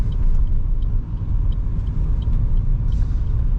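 A car pulls away from a green traffic light on a driving-test route in Riom, its engine a loud, steady low rumble close by, with faint higher whines and no talking.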